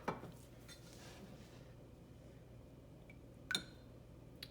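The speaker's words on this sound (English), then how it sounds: "Give it a good little stir." A spoon stirring melted homemade lip balm mixed with drops of sweet orange and cinnamon oil: quiet scraping with a couple of small clinks against the container, one near the start and one a few seconds later.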